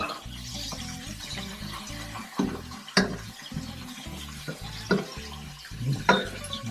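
Octopus pieces going into a hot pan for seafood linguine (linguine allo scoglio), with sizzling and stirring clatter and a few sharp utensil knocks, close and moderately loud, no talking.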